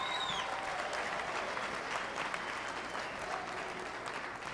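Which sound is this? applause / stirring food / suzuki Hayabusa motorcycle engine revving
applause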